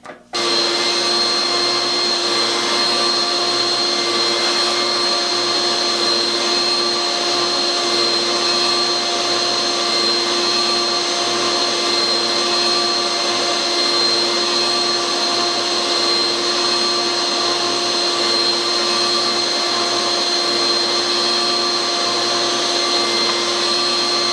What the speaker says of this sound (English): Now I'm going to make a lot of noise and see if I can't suck the dust out of this thing.